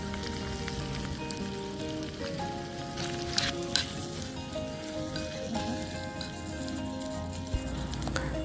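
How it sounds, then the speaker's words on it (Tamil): Boiled country chicken is tipped into a tiny miniature frying pan with curry leaves, giving a steady, moderate sizzle and fry crackle that runs throughout, mixed with a faint musical background and a few brighter pops. "அடுத்து நம்ம வேக வச்சு எடுத்து வச்சிருக்க சிக்கனை இது கூட சேர்த்துக்கலாம்"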